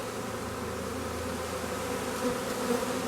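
A honeybee swarm being captured in front of the hive makes a dense, continuous buzzing drone, close and steady throughout with no talking.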